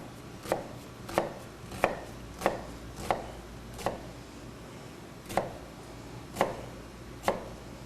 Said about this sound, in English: For our rods, we're going to cut into the onion